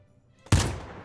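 A single loud, close legendary rifle gunshot from a Fortnite mod in Minecraft cracks sharply and trails off into a brief echo.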